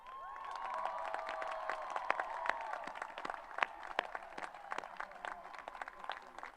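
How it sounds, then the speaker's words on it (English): Graduates stand for scattered clapping from a college commencement audience, with individual claps standing out sharply over a crowd murmur while a voice carries through the first few seconds. "let's give them a rousing applause"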